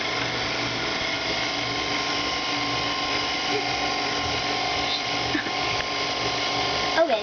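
An electric hand mixer whirs steadily and continuously, close up, beating Funfetti cake batter made with milk, with a brief rattle near the end.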